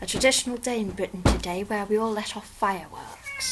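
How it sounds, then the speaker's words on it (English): A pet cat meows repeatedly in a quiet indoor room of a house, its cries closely tangled with a person talking in the foreground. "that is my cat making all the racket in the background"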